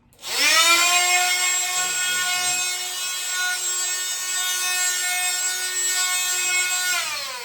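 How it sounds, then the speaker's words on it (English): An oscillating multi-tool fitted with a 60 grit sanding attachment runs steadily for about seven seconds, a loud, close, high-pitched buzzing whine with a rough abrasive scrub as it sands a surface, then cuts off. "Now I should be able to sand an even bigger surface."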